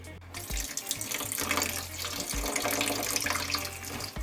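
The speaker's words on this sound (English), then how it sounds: "Now it's time to rinse it and season." Kitchen tap water runs steadily over a raw chicken breast being rinsed, a continuous close splashing flow with small interruptions as the meat is moved under the stream.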